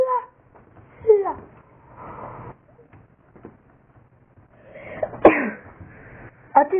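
Someone sneezes sharply up close, in short bursts between soft babbling vocal sounds and quiet pauses.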